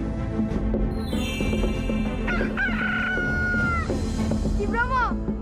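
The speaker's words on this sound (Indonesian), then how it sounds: "Ki Bromo, kamu dengar ayam sudah berkokok kan?" A rooster crows in a retelling of the Mount Bromo legend, with two or three strong rising-and-falling calls near the listener, over background voices and other sounds.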